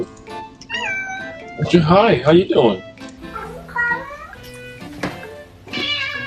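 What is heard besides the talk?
kitten meowing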